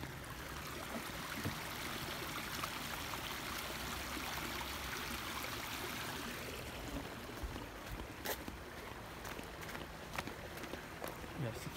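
Water flows steadily outdoors on a cold winter night near an apartment complex, a continuous broadband wash that stays constant throughout, with faint speech and a few brief clicks over it.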